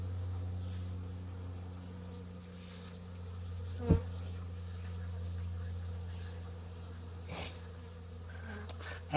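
Honey bees hum around a beehive on a warm November day, a low steady drone close by with a few louder passes and brief rustles breaking through.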